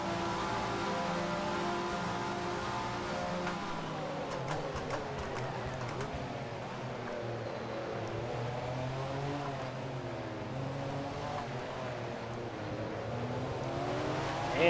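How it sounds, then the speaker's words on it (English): A twin-turbo V8 Jaguar GTP race car in a racing video game holds a loud, sustained engine drone through upshifts, its pitch rising and dipping steadily as it pulls down a straight. "let's let that twin-turbo V8 work back some ground for us."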